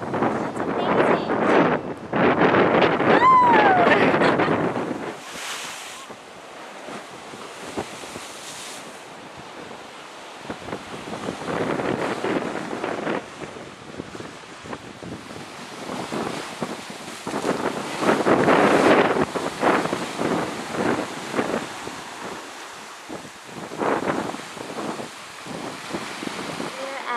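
Surf washing onto the longest white sand beach in Hawaii, with steady wind buffeting the microphone; the waves surge and recede in broad swells, loud and close, and no one speaks.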